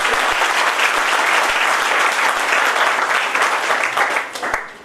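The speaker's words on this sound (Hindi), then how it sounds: "एक बार मैं जोरदार तालियां चाहूंगा।" Audience applause at a business motivational talk, a loud, full burst of many people clapping steadily that thins and tapers off at the very end.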